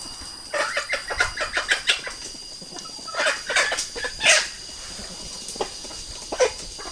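Chickens cluck close by in quick bursts of short, choppy calls, pausing briefly in the middle before a few more clucks, over a steady outdoor hiss.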